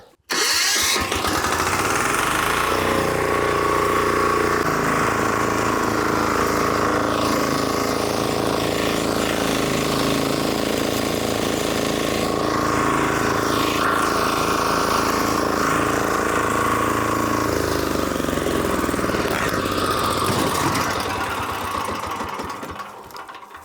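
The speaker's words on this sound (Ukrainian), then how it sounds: "Запускаємо мотоблок і поїхали." Diesel walk-behind tractor, a Kentavr 2010 DE, cranks and catches, then settles into a loud, steady knocking chug that runs close and unbroken before winding down at the end.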